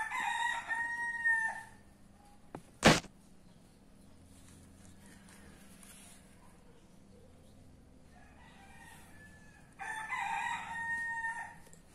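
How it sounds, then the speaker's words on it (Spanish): Roosters crow in the early morning, two clear bursts at the start and end with a quieter stretch between, plus a single sharp knock near the three-second mark. "Espero que escuchen el canto de los gallos."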